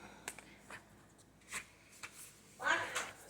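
A deck of tarot cards is shuffled in several short riffling bursts, quiet and close, with a louder flurry near the end and faint talking in the background.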